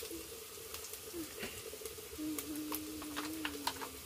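Ginger and onion paste for a hilsa fish dish sizzles steadily in a pan as turmeric is added, with soft crackles and occasional ticks of stirring throughout.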